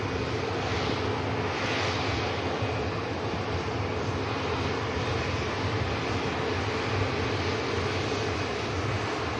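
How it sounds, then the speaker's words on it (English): An Air France airliner taxiing past at Manchester Airport gives a steady, broad engine rumble and whine, loud and continuous throughout, with no voices over it. "Air France 220. That's taxi past."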